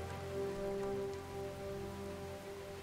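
Steady rain falls on parched, dry land, a continuous soft patter with a sustained tonal hum running underneath throughout.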